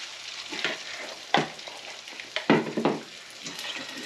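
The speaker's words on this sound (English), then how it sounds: "Pan's heated up. And I'm gonna put our burgers in here." Curried pork burgers land in a heated, oiled pan and burst into loud, crackling sizzle, with several sharp surges as each patty goes in over a steady background fry.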